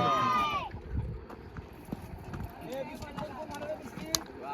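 Bullock cart hooves clop in an irregular, uneven rhythm on a path near a hill fort parking area, with voices and a brief high whistle-like sound at the start.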